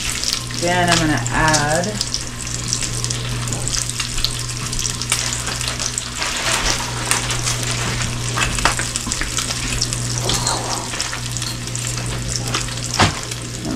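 Bacon frying in a pan, a steady crackling sizzle close by with a low constant hum beneath, and a short spoken phrase near the start.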